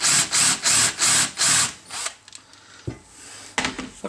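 Power drill boring a hole through a Volvo brake caliper, five loud, evenly spaced bursts of drilling up close, followed by quieter scraping and tapping of the tool against the metal.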